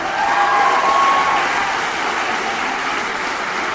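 Audience applause at a school assembly, welcoming performers onto the stage: a dense, steady wash of clapping from a crowd, loud and sustained throughout with no speech over it.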